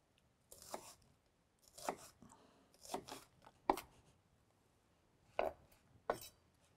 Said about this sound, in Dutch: Ik heb een hekel aan uien snijden